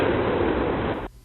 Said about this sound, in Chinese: 爆炸当时气体拢流出来